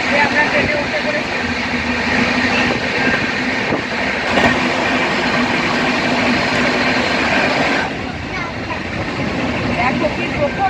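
A crowded passenger train travelling from Siliguri toward Dhanbad, heard from inside a carriage as a loud, steady rumble and rattle of wheels on the tracks, continuous throughout with a slight drop in level near the end.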